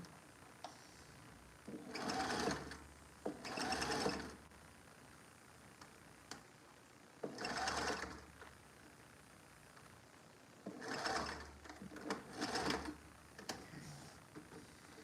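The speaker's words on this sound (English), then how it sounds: "I've got one half of the second cup stitched." A sewing machine stitching upcycled denim jeans runs in several short bursts of rapid whirring, separated by quiet pauses, heard close and fairly soft with no talking.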